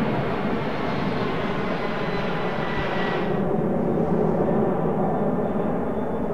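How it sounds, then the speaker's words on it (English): An airplane in flight in the video game Remember 11, carrying passengers toward Wakkanai: a steady, loud, broadband engine roar, as if heard from inside the cabin, whose upper hiss drops slightly partway through, with no talking. "飛行機は乗員乗客31名を乗せ、一路日本列島の最北端稚内を目指していた。"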